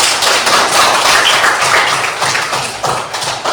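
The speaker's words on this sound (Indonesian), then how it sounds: "Ya betul, tepuk tangan untuk Rosi" Fourth-grade students in a religious-education classroom clapping together for a classmate's correct answer, a loud, continuous burst of many small hands clapping close by, with no talking over it.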